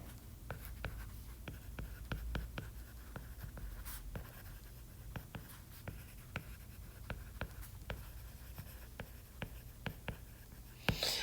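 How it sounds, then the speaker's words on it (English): Marker or chalk writing on a board while working through an RC circuit, with steady scratchy strokes and short taps repeating through the whole stretch at close range, quiet and unaccompanied by voices. "I'm going to go ahead and write that on the top."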